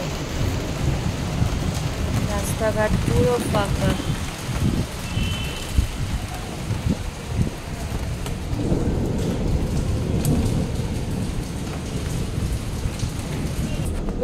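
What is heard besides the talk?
thunderstorm with rain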